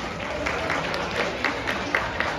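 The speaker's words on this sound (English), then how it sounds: "Round of applause for this young man." Audience applauding a young boy, named Reggie, who has been brought up on stage: steady, dense clapping from a crowd, fairly near and sustained throughout with no talk over it.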